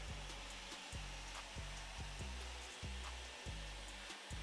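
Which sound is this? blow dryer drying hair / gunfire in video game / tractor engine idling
blow dryer drying hair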